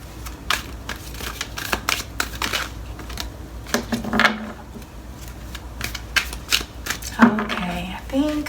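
A deck of tarot cards is shuffled up close in a run of crisp, uneven riffling and slapping bursts, with a voice speaking faintly in places.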